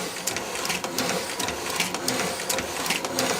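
A Heidelberg windmill letterpress runs steadily, its gripper bars turning with a fast, rhythmic clatter of mechanical clicks and thumps over a constant whir, close and moderately loud.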